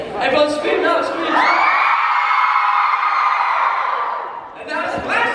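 A concert crowd screams and cheers loudly and steadily for several seconds, a sustained roar of many voices with whoops, with brief talk before and after.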